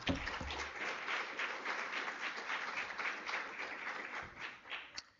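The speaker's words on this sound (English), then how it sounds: "Colleagues, let's give her another round of applause." Research seminar audience applauding, a continuous round of dense clapping from many hands lasting about five seconds and fading at the end.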